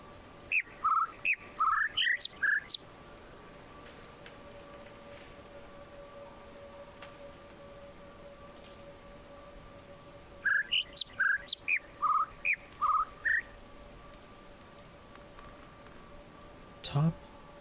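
Birds in The Witness video game chirp in two short clusters of quick tweets over a faint steady background hum, with a brief low sound near the end.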